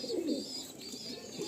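Close, soft cooing from a knot-crested Kasuri pigeon, a low rolling murmur that swells early and then continues steadily without any talk.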